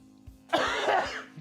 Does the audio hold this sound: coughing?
yes